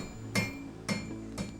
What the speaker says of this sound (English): you can still hear the sounds of the hammer striking the hot iron as things are still being made